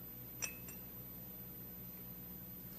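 A coffee cup on a stage set beside a glass of water gives one brief, bright clink followed by a softer second tap, faint against a steady low room hum.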